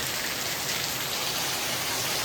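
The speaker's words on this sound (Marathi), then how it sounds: "पावसाचा आवाज बघा एवढा खतरनाक पाऊस पडतोय" Heavy monsoon rain pours steadily in the Konkan region, a dense, unbroken hiss of water drumming on surfaces with no pauses.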